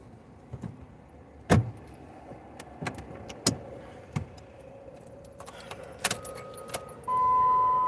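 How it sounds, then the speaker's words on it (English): Keys jangle and clink near a car during an attempt to start it, with several sharp metallic taps and rattles scattered over a quiet interior, followed at the end by a steady electrical hum or tone. "let's see if we can start this car"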